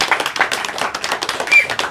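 A group at an administrative association's outdoor seminar gives a round of brisk applause, close and loud, the claps falling in a quick uneven patter with no talk over them.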